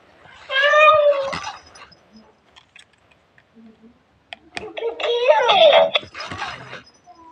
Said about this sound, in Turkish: bu vurduğunuz zaman da üzgün miyavlıyor